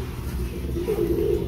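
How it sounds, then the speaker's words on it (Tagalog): Pet bird cooing in a low, soft pigeon-like call, a short warbling coo rising briefly over steady background noise. "Pati si Freddy, yung ibon ko dito."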